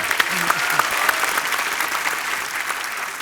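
Studio audience applause on a television comedy show for a tabla player, a loud dense burst of clapping with some crowd noise and brief talk mixed in.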